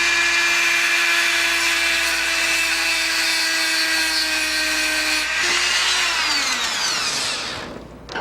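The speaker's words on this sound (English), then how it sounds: "The tool that we want to use is any round Dremel tool with a flat surface" Dremel rotary tool grinds a bevel on a pickup shoe, giving a loud, steady high-pitched whine with gritty contact noise that shifts pitch partway through and winds down at the end.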